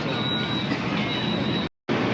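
Guangzhou Metro Line 8 train running underway, a steady loud broadband rumble of wheels and car noise with a thin high whine, cutting out briefly near the end before resuming.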